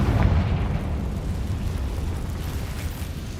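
A Confringo spell explosion in Hogwarts Legacy bursts into a loud, sustained rumbling roar that fills the clip and fades only slightly toward the end, with no talking.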